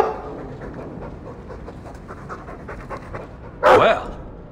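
A dog pants in a Dragon Age 2 cutscene, quick rhythmic breaths close by under faint ambience, ending in a brief louder burst.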